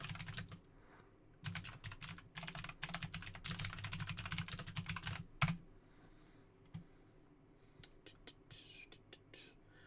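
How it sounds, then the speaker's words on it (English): Typing on a computer keyboard about ten years old gives rapid, dense bursts of clicking keys, close and steady at first, then thinning into scattered taps and pauses. "Love the typing. You could listen to that for hours."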